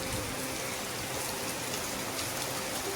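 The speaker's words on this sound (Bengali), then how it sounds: "জাস্ট উঠলাম, এখন উঠেই দেখলাম বৃষ্টি।" Rain falls steadily outside, a dense, even hiss of drops on surfaces that holds at a constant moderate level with no voices.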